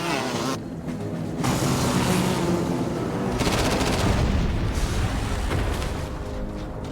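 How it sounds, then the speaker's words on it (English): A helicopter-mounted chain gun hammers out sustained automatic fire in an action movie scene, a dense, loud, continuous burst of rapid shots layered over engine roar and booming effects. "Unloading the chain gun."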